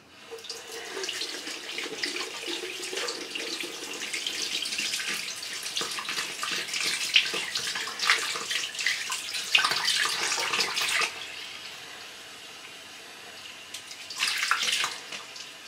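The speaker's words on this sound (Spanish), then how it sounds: "Voy a lavarme la cara, pero me la voy a lavar con agua calentita." Warm water runs steadily from a tap into a sink while someone splashes it onto their face, with continuous rushing and splashing that pauses briefly near the end before resuming; nobody speaks.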